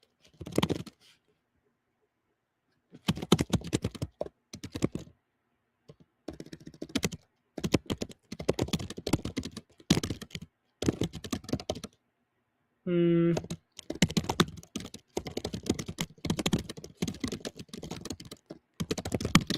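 Bursts of rapid keyboard typing, close and clear, with short pauses between runs and one brief electronic beep partway through.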